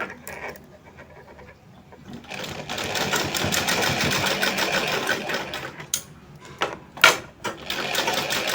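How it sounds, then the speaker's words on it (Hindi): Sewing machine stitching a line of fabric for a small costume dress, with a steady close mechanical whirring run of several seconds, a few sharp clacks near the end, and a brief quiet start. "इस पर हम एक सिलाई चला देते हैं इस तरह"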